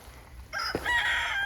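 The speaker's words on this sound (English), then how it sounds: "So much for getting ahead of the crowing" A rooster crows once in a garden, a single loud rising-and-falling call that cuts in after a brief quiet moment and carries to the end.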